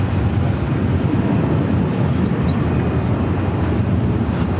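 A Southwest Airlines Boeing 737-800 arrives at Phoenix airport. Its jet engines give a steady, broad roar heard from a distance, unbroken and without voices.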